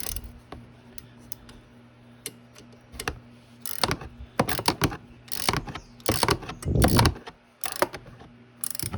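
A hand ratchet clicks in irregular bursts as bolts are torqued down on a 2009 Coolster 125cc after nine years parked, close and sharp, with rattling tool and metal handling between strokes.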